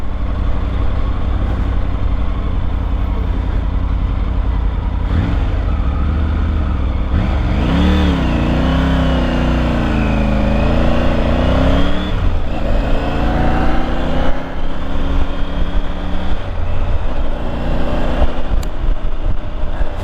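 A 2023 Triumph 900 GT Pro motorcycle rides steadily on the road, its engine drone rising and falling through gear changes under constant wind rush, loud and continuous for the full twenty seconds with no talking.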